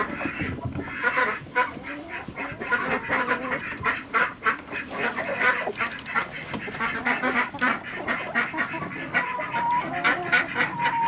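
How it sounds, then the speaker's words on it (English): A flock of Icelandic chickens, including a rooster, calling over one another, honking and clucking in a dense, steady chorus that carries on without a break. "Comes a rooster, Icelandic rooster"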